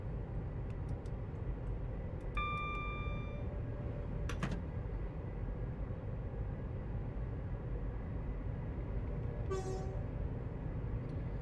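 A train in Train Sim World 5 rolls along with a low steady rumble, broken by short horn toots and brief crackling pops, heard alone without talk.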